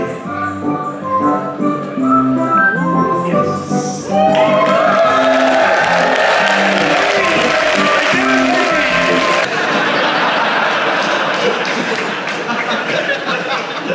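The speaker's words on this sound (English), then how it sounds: "What a crowd." Comedy show audience roars with cheering, clapping and laughter that swells suddenly partway through, a dense, loud wash of crowd noise with music-like tones underneath at the start.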